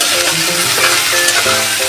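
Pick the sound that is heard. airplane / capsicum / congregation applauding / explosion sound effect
capsicum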